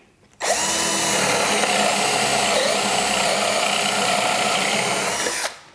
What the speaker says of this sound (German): Der geht deutlich schneller ins Holz und bohrt absolut perfekte Löcher.